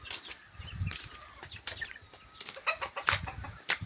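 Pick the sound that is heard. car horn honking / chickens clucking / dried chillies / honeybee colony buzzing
chickens clucking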